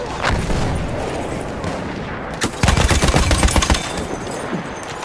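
Machine gun fire in Battlefield 1 on the Fire and Ice operation, a sustained rapid burst of close shots crackling through the middle, with booming explosions and battlefield rumble around it.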